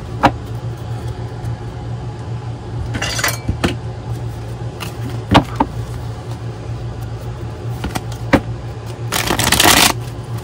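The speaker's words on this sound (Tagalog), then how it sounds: "Balasahin lang po muna po natin para kitang-kita nyo po na binabalasa po natin" A deck of playing cards being shuffled at a table, with short riffling bursts and taps, two longer riffles standing out. A steady low hum runs underneath and no one speaks.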